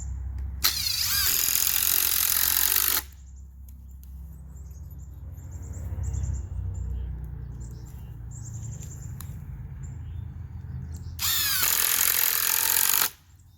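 A power drill whines loudly in two bursts, one at the start and one near the end, boring into pallet wood, with a quieter stretch of faint background between them.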